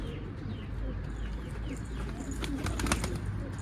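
Soft pigeon coos repeat close by over a low, steady background rumble, with a few brief chirps near the end.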